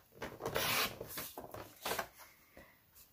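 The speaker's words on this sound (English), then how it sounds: "Next, I'm going to trim right down the middle" Cardstock trimmed on a paper trimmer: several close rasping, scraping strokes of the blade sliding along the paper, in uneven short passes.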